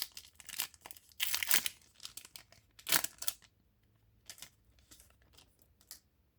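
Panini Prizm WNBA trading card packs are torn open with sharp crinkling foil rips in quick bursts, loudest early on, then lighter scattered rustles, close and with no talking.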